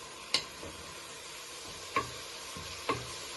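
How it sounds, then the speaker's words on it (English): Mince with onion, garlic and mushrooms sizzles steadily in a pan while a utensil stirs it, with three sharp scrapes or knocks against the pan standing out over the constant fry. "Now you want to add in all your onion, garlic and mushrooms to your mince. You give this a stir for a few minutes."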